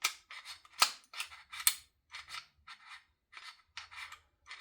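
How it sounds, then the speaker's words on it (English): Unlubricated, brand-new Glock 19X pistol slide worked slowly along its frame rails, giving a series of close, dry scraping rasps with sharp clicks, repeated in short strokes with brief gaps between them. "What you hear is the sliding of the slide on the frame grooves there."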